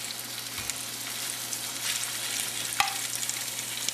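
Lamb shanks browning in olive oil in a pan, a steady, loud sizzle and crackle of frying throughout, with a brief clatter partway through.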